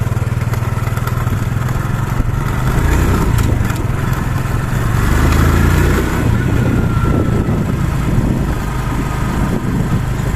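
Fuel-injected Honda XRM125 motorcycle on a test ride with a misfiring engine, a steady close engine drone and rattle that swells slightly midway, no talking.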